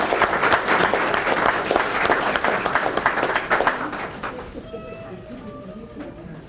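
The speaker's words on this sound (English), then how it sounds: "Let's give Cameron another round of applause." At a city commission meeting, the audience applauds student Cameron Davis with a dense, steady wash of clapping for about four seconds before it dies away into low room sound and faint voices.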